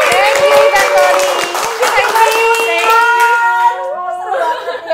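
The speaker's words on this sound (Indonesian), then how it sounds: "tepuk tangan buat Elma dan Christy" A studio audience clapping for Elma and Christy: a burst of dense applause up front that tapers off while people chuckle and talk over it, with light musical tones rising beneath.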